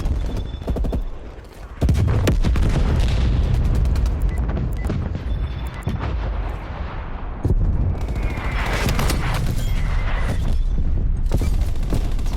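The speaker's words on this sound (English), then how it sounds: "Net call, incoming artillery." Incoming artillery fire in Call of Duty Cold War, heavy booms and rumbling impacts over loud continuous battlefield noise, with sharp cracks of gunfire scattered across the stretch.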